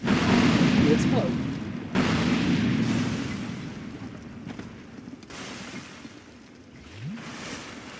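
A loud booming explosion in Dark Souls 2 as a character lights a torch while doused in oil, a heavy blast at the start that rumbles and fades under game ambience, with a second thump shortly after.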